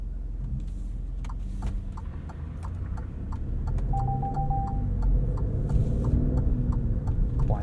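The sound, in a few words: Alfa Romeo Stelvio blind spot monitoring warning chime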